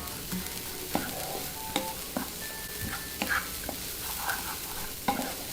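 A sprig of curry leaves goes into hot oil while shrimp cook, bringing a soft sizzle broken by sharp pops and spatters, a few knocks of a utensil scattered through it, fairly quiet and close.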